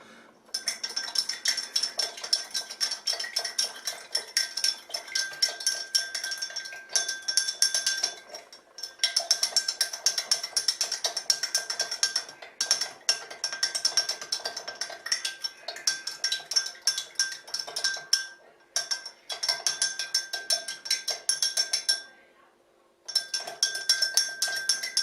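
A long spoon stirs a gin drink in a glass, a near, continuous run of bright metallic clinks and scrapes against the glass with a few short pauses, no talking.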